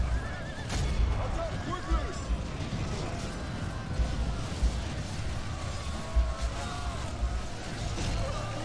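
Horses neigh and whinny amid the clamour of a medieval battle in Medieval II Total War, with hoof clatter, distant booms and faint voices in a continuous dense mix.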